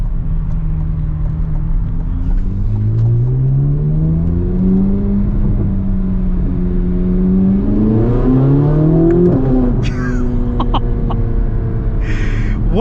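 A 2024 Chevrolet Corvette Z06 engine, heard from inside the car, climbs and eases in pitch through repeated revving surges, loud and continuous, with a sharper rise near the end.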